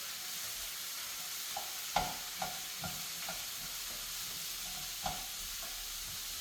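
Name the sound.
stirring Mexican leftovers sizzling in a pan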